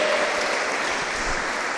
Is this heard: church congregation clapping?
yes